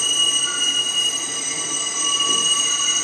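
A passing train's wheels squeal on the rails in a sustained, piercing high-pitched screech, loud and close, with a rumbling undertone and no talk.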